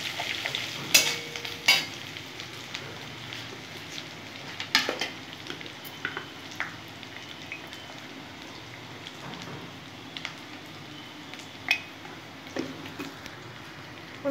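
Crushed ginger fries softly in a pan with a faint, crackling sizzle, broken by occasional sharp clicks of a spatula stirring against the metal.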